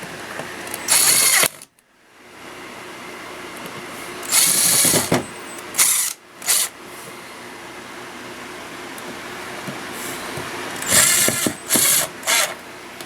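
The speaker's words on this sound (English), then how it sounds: "let's just cinch down these last 3 screws back here on the back" Power driver whirs in several short bursts, close and loud, driving the last screws into the back panel of an arcade cabinet, with pauses and light handling noise between the runs.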